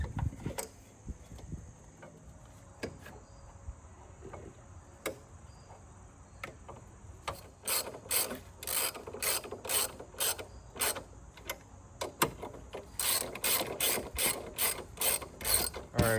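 A ratchet tightening screws while installing a Turner Motorsports reservoir on an E92 BMW M3, quiet scattered clicks at first, then fast steady runs of loud close clicking in repeated bursts, with no talking.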